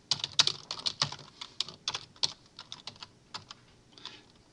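Typing on a computer keyboard: a close, crisp run of irregular key clicks, quick bursts with short pauses, loud against a quiet background and free of speech.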